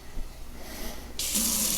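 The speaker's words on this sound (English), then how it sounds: "That's me running the water." Tap water runs steadily into a pot of meat sauce, starting partway through as a loud, close, continuous hiss and splash, with no talking.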